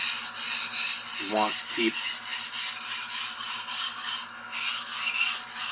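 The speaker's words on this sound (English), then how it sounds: "the sharpening action on the blade as evenly distributed as we can through the length of the blade" Repeated rubbing strokes of a budget Henckels chef knife blade being sharpened, a steady rhythmic scrape pulsing about twice per second, close up and fairly loud, with a brief bit of talk near the start.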